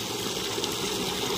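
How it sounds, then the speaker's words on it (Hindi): A borewell pump gushes a steady, loud stream of water into a rice paddy at dusk, a continuous rushing flow with no pauses. "ये है बोरवेल, यहाँ से डाला जा रहा है पानी"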